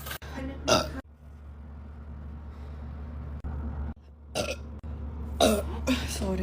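A woman lets out several loud, throaty burps, two short ones near the start and a cluster of deep, rasping ones toward the end, separated by a quieter background stretch.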